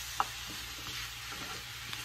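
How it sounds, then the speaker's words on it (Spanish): Washed mushrooms added to softened onion and garlic in a pan, a steady close frying sizzle with a sharp knock at the start and faint stirring scrapes throughout. "vamos a agregar los champiñones que ya tenemos lavaditos para que se vayan guisando"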